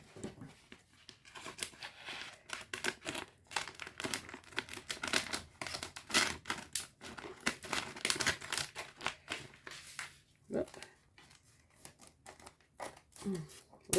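Scissors snip and crinkle through a plastic slip folded in half, a busy run of short crisp cuts and rustles close by, with a person talking between them.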